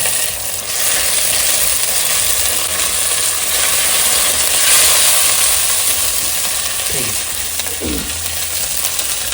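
Ginger garlic paste sautés in a hot pan with a loud, steady sizzle throughout, close up, with a couple of brief scraping sounds near the end.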